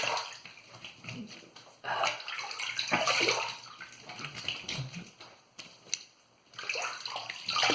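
Tap water runs steadily over a boar-bristle shaving brush at close range, with a brief pause and small splashes as the flow shifts.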